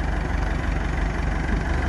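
Tractor engine running continuously while drilling holes on a hillside farm, a loud, steady low rumble with a faint rhythmic pulse, close by and without voices.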